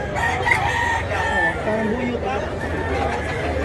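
A Gilmore gamefowl rooster at a Cebu market crows amid steady crowd chatter, the call rising a few times under constant nearby talk and background noise.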